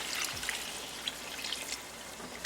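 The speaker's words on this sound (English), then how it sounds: "add 2 cups water." Water pours into a pot of lamb and potato curry, a continuous bright trickling splash with small scattered plops, close and alone without talk.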